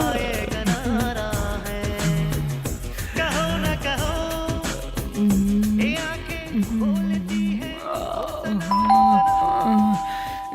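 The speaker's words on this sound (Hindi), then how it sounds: "बीच में आके कौन घंटी बजा रहा है?" A doorbell rings repeatedly with bright ding-dong tones over loud music playing in a home late at night.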